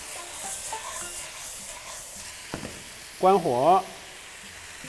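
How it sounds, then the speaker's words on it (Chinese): Pork liver with Chinese chives stir-fried in a wok, a steady close sizzle and hiss running throughout, with a short clank of the utensil and a brief burst of speech near the end. "来给它翻炒一下"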